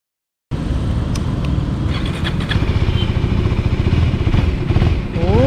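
A KTM Duke 390 motorcycle heard while riding, its engine note steady and rising with throttle, close and fairly loud against road and wind noise, with no talking.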